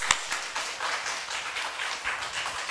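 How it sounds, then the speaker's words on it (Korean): Church congregation clapping during a Sunday morning service, a brief burst of many hands applauding together, steady and moderately loud, heard from within the room. "자, 하나님께 영광의 박수 올리겠습니다"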